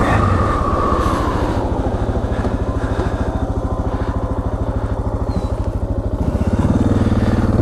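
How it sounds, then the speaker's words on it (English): A Suzuki DR650SE dual sport motorcycle thumps along with a loud, steady single-cylinder pulse while riding, the engine note rising briefly near the end. "Weird to talk about Spyders while I'm riding around on a Suzuki Dual Sport."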